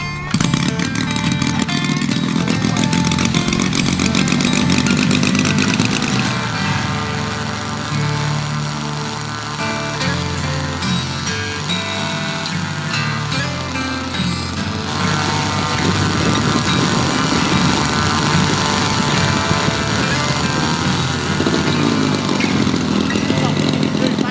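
Small RC aerobatic plane engine runs loud and steady for the whole stretch during tuning after a sandstorm, its buzzing drone shifting in pitch partway through, with voices talking over it.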